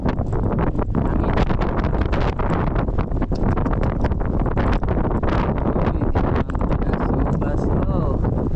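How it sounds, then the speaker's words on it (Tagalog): Wind gusts buffet the microphone aboard a fishing boat, a loud continuous roaring rumble with rustling texture throughout. "Hangin."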